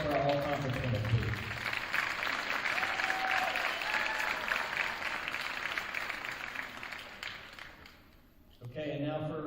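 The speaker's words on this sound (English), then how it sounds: "Round of applause for our all-conference winners" An audience claps for all-conference award winners at a school's winter awards, dense sustained applause with a voice over it at the start, fading out before talk resumes at the end.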